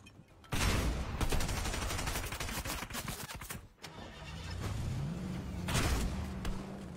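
Shotgun blasts in a video game ring out in a dense burst of rapid, loud reports, followed by a lower engine-like drone.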